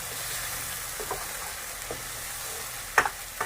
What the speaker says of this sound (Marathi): हे त्याची पेस्ट मस्त पैकी हलवून घेऊ